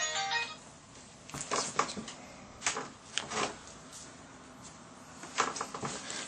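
A cell phone rings in short repeated bursts while someone handles an urban everyday-carry backpack and medical kit, the tones fairly faint and close, with rustling and handling noise between them.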